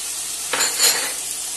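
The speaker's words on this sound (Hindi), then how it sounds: "और ये मैं हल्दी डाल रही हूँ" Ground turmeric tipped into a hot pan of sizzling oil while cooking palak paneer, a steady frying hiss that swells briefly as the spice lands and is stirred, close and alone.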